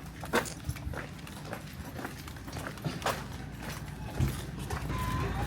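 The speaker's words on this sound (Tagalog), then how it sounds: "pasok yung ligaw na aso" A stray dog whimpers and moves about nearby, with soft scuffling footsteps and faint background noise; occasional brief yelps stand out.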